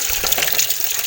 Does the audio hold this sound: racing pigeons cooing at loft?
no